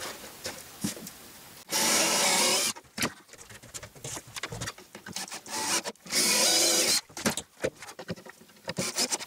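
Power drill driving screws into a wooden panel, two loud sustained whirring bursts of about a second each, separated by scraping, tapping and handling of wood, close up with no talk.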